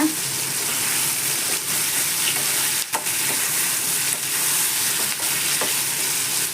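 A handful of curry leaves frying in a pan for a chutney gives a steady, loud hiss that lasts throughout. Small crackles and pops break through the sizzle, and no one speaks.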